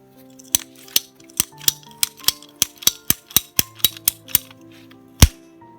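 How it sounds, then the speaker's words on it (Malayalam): A ratcheting pipe cutter works through PPR plastic plumbing pipe in about fourteen evenly spaced, crisp clicks, then closes with a single louder snap as the cut finishes. "കട്ട് ചെയ്തപ്പോൾ നീറ്റായ രീതിയിൽ ഒന്നും ഒരു പ്രശ്നങ്ങളും ഇല്ലാത്ത രീതിയിൽ നമുക്ക് നീറ്റായിട്ട് കട്ട് ചെയ്യാൻ പറ്റിയിട്ടുണ്ട്"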